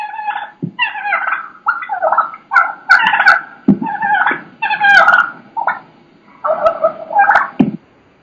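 At least two wild turkey hens yelp and cluck continuously and overlap each other, loud and close, in a rapid, uneven calling sequence with no talk.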